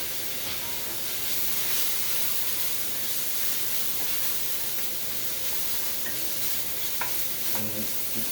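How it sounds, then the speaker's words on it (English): Garlic and green onions toasting in a hot pan give a steady, close sizzle and hiss that runs the whole way through, with a few faint clinks of stirring and no voices. "Now I'm going to put some green onions in there. Toast that lightly."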